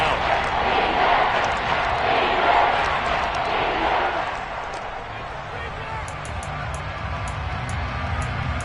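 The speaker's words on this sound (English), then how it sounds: "the crowd getting into it as we come up on a big third down" A football stadium crowd roars loudly during a tense late-game moment against the Panthers, a broad sustained cheer that swells over the first few seconds and then settles into a steadier, slightly quieter din with scattered whistles.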